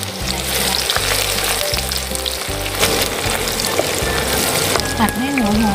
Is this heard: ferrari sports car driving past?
no